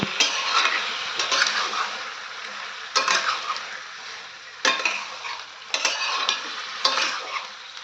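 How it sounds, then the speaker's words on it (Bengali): Chicken with poppy seed paste is stirred in a pan, a steady sizzle broken by several sharp scraping and clinking spoon strokes at irregular intervals, close and moderately loud. "এবারে এটা ভালো করে একটু নাড়াচাড়া করবো"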